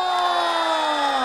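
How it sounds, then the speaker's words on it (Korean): A studio audience at a Korean singing-class TV show cheers and shouts as the featured singing instructor is welcomed, with loud, sustained crowd noise and a held sung or shouted tone over it, brief and close. "큰 박수로 모셔보겠습니다"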